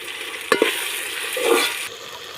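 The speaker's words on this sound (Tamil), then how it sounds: "இப்போ இதை நல்லா வதக்கி விட்டுக்கலாம் தக்காளி பழம் நல்லா வதங்கி வரட்டும்" Onions and tomatoes stirred and sautéed in a pan for a Tamil Sankara fish curry give a low, steady sizzle, with a couple of sharp spoon scrapes near the start and a brief louder swell of frying just past the midpoint.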